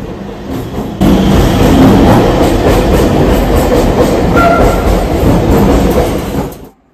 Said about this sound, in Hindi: MMTS रेल भी बाजू में जा रहा है।